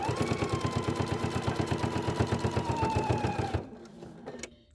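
A sewing machine runs a short burst of rapid, evenly spaced stitches to put a tiny back stitch on a fabric bag during final assembly, then stops abruptly and a few faint handling clicks follow.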